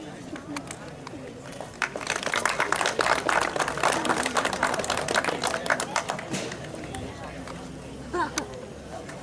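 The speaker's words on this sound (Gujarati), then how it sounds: "તાળીઓનો અવાજ વિરમગામ ડીવાયએસપી ઓફિસ સુધી જાય એટલી તાળીઓ થવી જોઈએ" A crowd at a police officer's retirement farewell ceremony in Viramgam applauds, with sustained clapping building quickly and then tapering off after several seconds.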